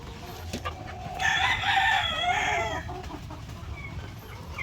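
Backyard laying hens cluck and one bird lets out a loud, drawn-out crow-like call at close range, with faint rustling and scattered clucks before and after.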